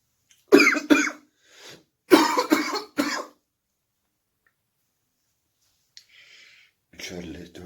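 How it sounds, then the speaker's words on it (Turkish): A person sick with Covid coughing in harsh, close bursts, two clusters of three or four rapid coughs, then quiet and some faint handling noise before a voice speaks briefly. "öksürmeler meydana geliyor"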